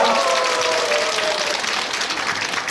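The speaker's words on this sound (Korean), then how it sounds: "박수 부탁드립니다." A congregation at a Buddhist dharma ceremony breaks into dense, steady applause, many hands clapping together in a full, even burst for a few seconds.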